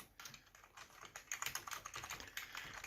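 Keys clatter on a Piranha 2345 RGB gaming keyboard, a cheap non-mechanical backlit model, in a quick, uneven run of soft close-up clicks with no talk over them.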